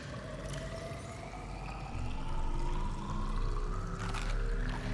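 Drinking water in the video game Subnautica, a watery pouring and gulping effect with rising tones that swells partway through, loud and close with no talk.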